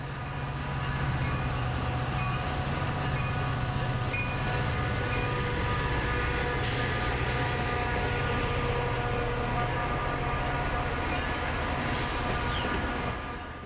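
A 1974-built Metra diesel locomotive of 3,200 horsepower runs in Chicago with a steady, loud engine roar and rail rumble throughout, with sharp bursts of noise punctuating the sustained drone.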